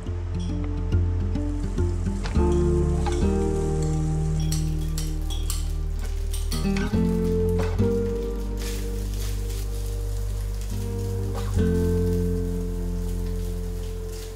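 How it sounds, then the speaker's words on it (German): Steady sizzling and crackling of rice frying in oil in a hot pan, continuous and close, with a low hum underneath. "Wir braten den Reis an."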